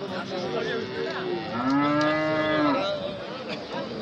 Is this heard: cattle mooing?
yes